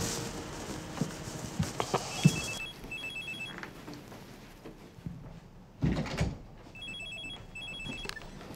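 A telephone rings in repeated electronic bursts within a dramatic film scene, partly masked by a louder room bed and a couple of sharp knocks or door sounds.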